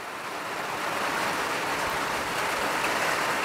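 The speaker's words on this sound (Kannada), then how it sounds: "ನೋಡಿ ಯಾವ ಥರ ಮಳೆ ಬರ್ತಾಯಿದೆ ಅಂತಂದರೆ, ಕಾಣಿಸ್ತಾ ಇದೆಯಾ ಜೋರಾಗಿ ಮಳೆ ಶುರುವಾಗ್ಬಿಟ್ಟಿದೆ." Heavy rain pours onto a farm plantation in a dense, continuous roar that holds steady and loud across the whole stretch, with no voices.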